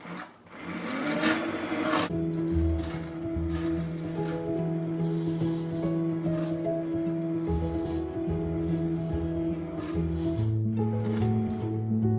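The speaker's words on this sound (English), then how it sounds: "go with my immersion blender and puree all this" An immersion blender purees strawberry and tomato jam on the stovetop. Its loud, steady whirring motor drones close for about twelve seconds, with the pitch shifting slightly as it works through the fruit.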